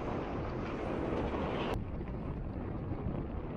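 Wind buffets a microphone while cycling into a headwind, a steady rushing roar that briefly drops off partway through, then continues more softly.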